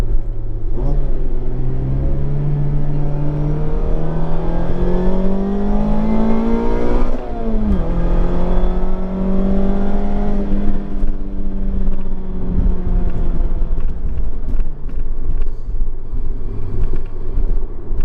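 A Mazda MX-5 Miata, ND generation, fitted with a Remark exhaust, accelerates hard through the gears, its loud engine note climbing in pitch, dropping at a shift around midway, then rising again close and steady with no talking.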